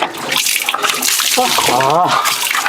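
Water is poured over a person's head while bathing with shampoo, giving a splashing, rushing pour close to the microphone, with a voice speaking over the water.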